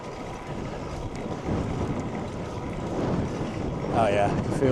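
Steady, loud wind rushing across the microphone during an outdoor road and gravel bike ride, a continuous broadband roar that swells slightly toward the end.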